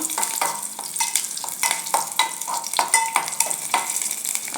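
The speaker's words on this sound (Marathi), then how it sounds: "तेल गरम झालं की त्याच्यामध्ये मी अशा दोन हिरव्या मिरच्या तोडून घेतल्या आहेत त्या घालायच्या थोडा कढीपत्ता घालायचा थोडंसं परतायचं" Green chilies and curry leaves sizzle and crackle in hot oil in a pan, stirred with repeated scraping strokes in a steady rhythm, close and fairly loud with no talk.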